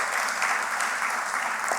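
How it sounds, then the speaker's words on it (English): Steady audience applause at the closing ceremony of a Caribbean judicial conference in St. Lucia, dense continuous clapping from a large crowd filling the whole moment without any voices. "A round of applause to all."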